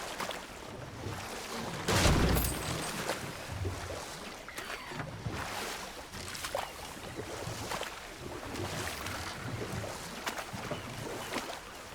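A waterfall in a video game, heard as a faint, steady rushing wash with gusty, breathy swells and a louder surge early on.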